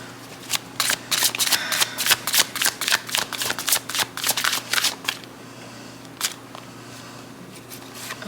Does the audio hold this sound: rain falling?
no